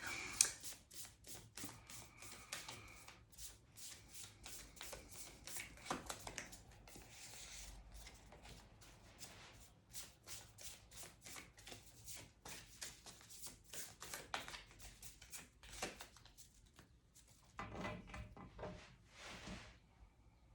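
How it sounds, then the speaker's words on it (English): A deck of tarot cards is shuffled by hand in a quiet room, with a steady series of soft, crisp riffles and slides continuing for many seconds and close to the listener. "I'll shuffle these and then get right into the cards"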